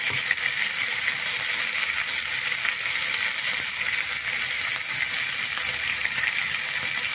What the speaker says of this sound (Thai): เดี๋ยวเราย่างอีกนิดนึงนะครับ